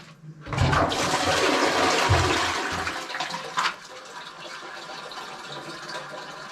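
A toilet flushing in a self-built house with newly laid sewer pipes: a loud, close rush of water lasting about three seconds, then a softer, steady trickle as the cistern refills.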